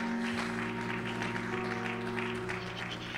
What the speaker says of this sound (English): give God another hand clap of praise in this place